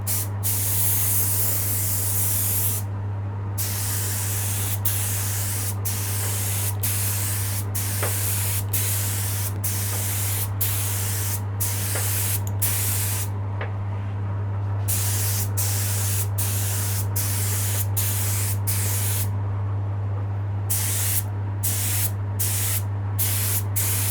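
An aerosol spray can hisses in repeated bursts while spray painting a bare-wood guitar, some short and some held longer, separated by brief pauses, over a steady low electrical hum.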